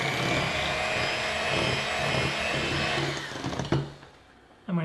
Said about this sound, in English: I'm going to use a hand mixer